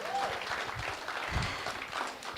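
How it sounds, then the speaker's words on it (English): A room of attendees at a candidates' forum gives a short round of applause, a fairly quiet, even patter of clapping that holds steady for a couple of seconds. "So give yourselves a round of applause."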